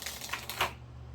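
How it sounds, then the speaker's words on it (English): Tarot cards shuffled and tapped straight, a series of light crisp clicks and flutters up close, then quieter. "Sorry, I'm trying to straighten my cards back out."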